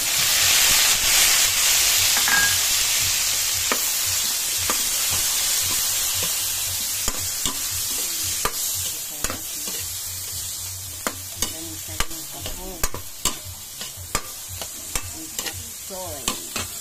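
Chop suey vegetables stir-fry with sautéed garlic in a hot pan, opening with a loud, hissing sizzle that gradually fades, then giving way to repeated sharp spatula clacks against the pan in a loose rhythm.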